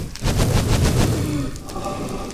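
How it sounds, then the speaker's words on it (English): Rapid bursts of gunfire in a modded Minecraft game, a steady clatter of overlapping shots at moderate loudness that fades slightly toward the end, with no talking. "There's someone shooting at me from over there too."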